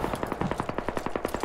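Rapid automatic gunfire in the video game Squad, a steady burst of evenly spaced shots about ten per second, loud and close, with no talk over it.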